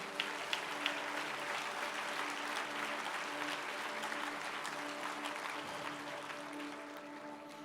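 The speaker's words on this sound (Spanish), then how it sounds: "Dele ese aplauso al Señor." A church congregation applauds during a sermon, sustained even clapping from many hands filling the room at moderate loudness, with a faint hum underneath and no talk.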